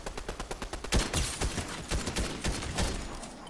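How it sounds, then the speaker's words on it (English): Rapid gunfire in Fortnite, dense automatic bursts and overlapping shots that hammer on steadily at close range with no pauses. "They're shooting each other."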